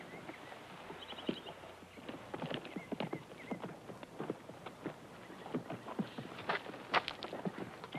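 Horse hooves clip-clop over hard ground in an uneven walking rhythm, fairly quiet and a little distant, with a faint whinny among the steps.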